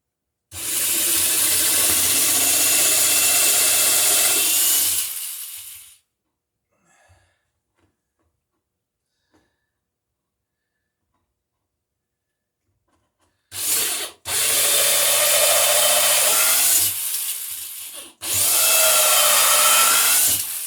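A power drill grinds steadily into wooden boat boards for several seconds, stops for a long quiet stretch, then drills again in two more bursts, close and loud.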